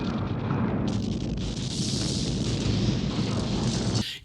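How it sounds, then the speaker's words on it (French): The starship Enterprise explodes in the film Star Trek III, a dense, sustained roaring blast with rising hiss that rumbles on for several seconds before cutting off abruptly. "Ken Ralston n'aime pas l'Enterprise, du coup, le faire exploser le ravit"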